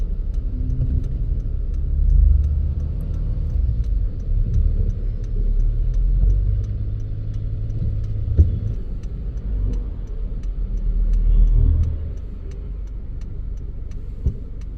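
A lorry rumbles past at night near a resort surrounded by wild elephants, its low engine drone steady and fairly loud for the whole stretch, swelling as it passes, with no talk.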